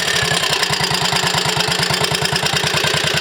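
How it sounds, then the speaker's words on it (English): A Triumph Scrambles Cub replica motorcycle engine runs close and loud with a steady, even beat while the throttle is blipped during a downshift. "Must get into the habit of blipping the throttle more slowly when I'm changing down."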